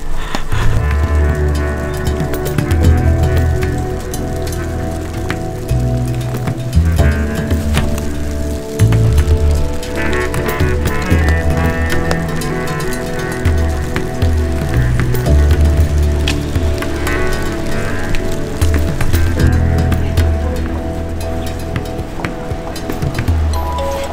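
Steady rain falling outdoors in Tokyo on a day of the season's first snow, forming a dense continuous hiss throughout with some louder rumbling and passing activity underneath, no talk.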